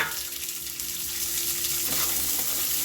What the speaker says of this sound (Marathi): चांगले जरा तेलामध्ये हे करून घ्यायचं अर्धा चमच एक तेल टाकायचं आणि चांगलं भाजून घ्यायचे वाटाने